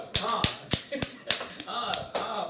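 A small studio audience claps on a TV talk show, about eight distinct, fairly sharp claps in an irregular rhythm, with a voice talking underneath.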